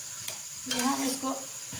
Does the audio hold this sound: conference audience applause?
no